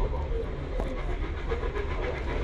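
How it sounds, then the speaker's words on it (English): A steam train running on the Epping Ongar Railway, heard from on board as a steady, loud rumble and hiss with faint rhythmic rail clatter, continuous for a few seconds. "We're on a steam train."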